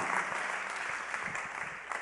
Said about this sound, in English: I wish somebody would clap their hands and say amen